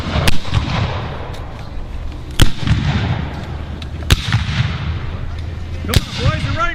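Gunfire from a Civil War reenactment with Union and Confederate infantry: four sharp, loud musket reports spaced about two seconds apart, each with a rolling echo, over outdoor crowd noise and faint voices.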